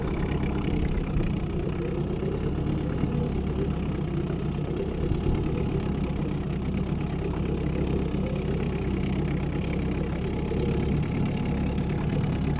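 An Evinrude two-stroke outboard motor, under restoration and running rich with too much oil, drones continuously at a fairly loud, steady idle. The low rumble has a fine rattling pulse and holds even with no variation.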